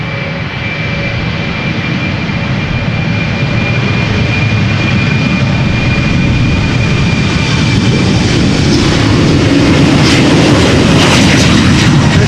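A KLM Embraer 190 jet takes off at Amsterdam Schiphol with a loud, continuous engine roar that swells steadily as the aircraft accelerates down the runway.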